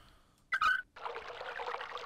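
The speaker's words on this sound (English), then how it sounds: "Oh, it drained all the water out." Water drains out in the video game Myst, a steady, soft rushing pour that begins after a brief tonal game sound and keeps going, faint and even.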